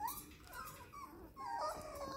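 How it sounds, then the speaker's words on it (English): Five-week-old puppies whimper and whine in high, wavering cries that overlap close by, quiet and continuous. "Here are Apple's puppies"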